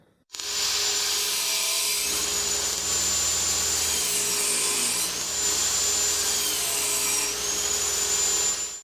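A table saw rips a wooden board down to six inches wide, a steady loud whine with broadband cutting noise that holds for most of the stretch, with slight dips as the blade load shifts.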